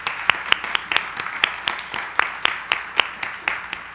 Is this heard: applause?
yes